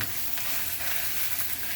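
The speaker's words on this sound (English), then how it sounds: "you hear that sizzle?" Beef sizzles in a very hot pan, a loud, continuous crackling hiss of frying close up with no voices over it.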